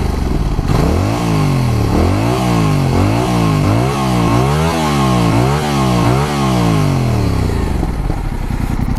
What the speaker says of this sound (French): On va vous faire écouter un petit peu cet échappement.